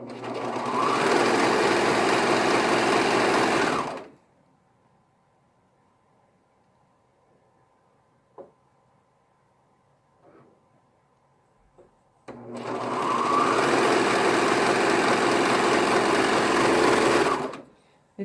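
A sewing machine runs a quick seam on T-shirt fabric in two steady, close bursts of fast needle whirring, separated by a long quiet pause with a few faint clicks.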